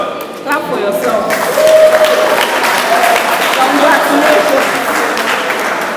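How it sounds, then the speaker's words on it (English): An audience applauds at a pledge ceremony with a sustained, loud burst of clapping that swells and holds for several seconds. "Clap for yourself."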